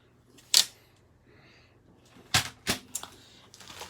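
A paper trimmer slices cardstock for a mini album: sharp blade clicks and cuts, one loud snap early, then a cluster of crisp cutting sounds, close and alone in a quiet room.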